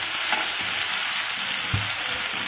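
Ginger, garlic and hot green chillies fry in a pan with a dense, continuous sizzle and a few soft stirring knocks, close up and steady throughout.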